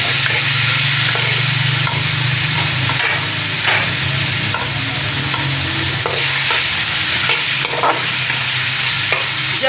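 Chicken stir-frying with lightly fried garlic in a pan for chicken cheese noodles: a loud, unbroken sizzle close by, with repeated scraping strokes of a spatula, and no voices.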